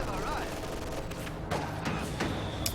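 MG42 machine gun bursts from German grenadiers in Company of Heroes 2, rattling amid a dense battlefield din of other gunfire, with a voice talking over the action.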